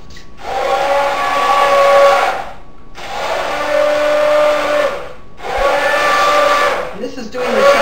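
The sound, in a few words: immersion blender blending vegetables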